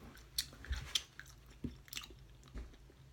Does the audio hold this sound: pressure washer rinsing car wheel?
no